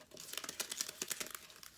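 Paper strips being folded and crinkled for a children's craft, a close run of crisp crumpling and crackling bursts, steady and fairly faint, with no talk over it.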